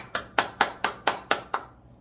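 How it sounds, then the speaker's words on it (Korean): Seven sharp, evenly spaced claps from a group of hands in unison, close and distinct, ending with a brief quiet pause during a children's church worship service. "우리 영광의 박수를 올려드려요"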